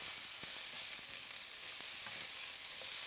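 Continuous crackling sizzle of vegetables frying in a hot pan, close and steady, with a few soft stirring clicks.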